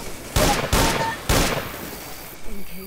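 Dual pistols firing in the Left 4 Dead 2 video game: three loud, sharp gunshot bursts in quick succession, with a faint voice and game noise in the background.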